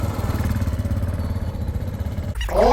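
A Yamaha SR400, a 1970s-style single-cylinder 400cc kick-start motorcycle, runs with a steady low engine thrum being ridden, then a louder burst of engine and wind noise near the end.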